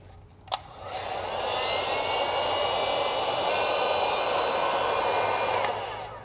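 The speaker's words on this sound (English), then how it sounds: "I'll put a little bit of heat on the shrink wrap just to tighten that up." A heat gun blows steadily to shrink heat-shrink tubing over motorcycle wiring on a Yamaha Tenere 700, a constant close airy whoosh running for about five seconds after a brief click, with no talking.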